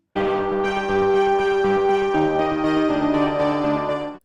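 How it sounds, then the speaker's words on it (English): Bell-like synthesizer tones and a heavily distorted music box play a dense, sustained harmonic passage in a rescore of the 1927 silent film Metropolis, with steady loud chords shifting pitch over a few seconds. "I added extra elements including Spitfire Labs' Gaelic voices, bell-like synths made on RetroSynth, and a heavily distorted music box VST"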